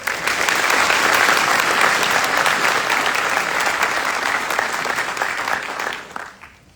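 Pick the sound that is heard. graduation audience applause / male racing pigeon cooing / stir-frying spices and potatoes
graduation audience applause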